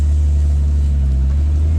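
Steady, loud engine rumble from a Nissan Stagea with an RB25DET engine, held as the throttle is tipped in, continuous and close with no talk over it.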